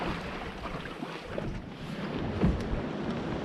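Steady wind buffets the microphone on an open Drascombe Lugger sailing dinghy off the North East Scotland coast near Dunnottar Castle, a continuous broadband rush with soft water noise and a brief gust, with no voices.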